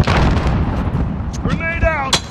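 In a combat shooter game, a thrown grenade goes off amid a dense, continuous roar of gunfire and blasts, with a short tonal alert and voice callouts layered over the din.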